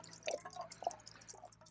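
Water trickles and drips from a camping water container at a lakeside campsite, a faint, close, uneven splashing pour lasting under two seconds with no talk.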